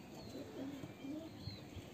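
A male Pilong pigeon gives low, rolling coos in a couple of short phrases nearby, while faint chirps from other birds sound in the background. No voices are heard.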